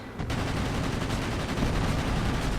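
Aircraft machine guns firing in World of Warplanes: one dense, rapid burst of gunfire that rattles on almost unbroken for over two seconds, loud and close.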